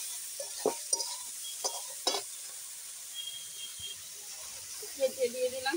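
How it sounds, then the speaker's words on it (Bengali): Pea greens being stirred in a pan with turmeric after fried eggplant, giving scattered soft scrapes and light sizzling taps, faint and close, with a brief burst of stirring near the end. "দিয়ে ভালো করে নেড়ে দিই।"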